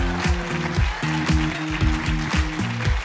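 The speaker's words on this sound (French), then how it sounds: "comme si on peut applaudir ce soir Raphaël" An audience applauds at the Trophées de l'Avenir 2019 awards ceremony, a continuous wash of clapping under loud, rhythmic music.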